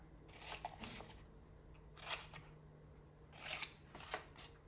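Scissors trimming and angle-cutting a paper box template, four crisp snipping bursts spaced about a second apart, close and fairly quiet with no talking.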